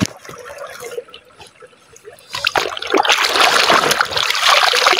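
Stream water trickles and splashes at a creek in Albay where clothes are being washed, a soft dribbling flow that turns into louder, broader splashing and rushing midway through.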